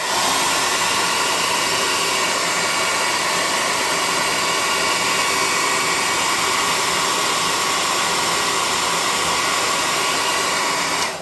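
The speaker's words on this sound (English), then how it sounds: "you want to hit it with the air gun on high" A hobby air gun on its high setting blasts a steady, loud, close rush of air across a freshly painted tabletop miniature, unbroken and with no talking throughout.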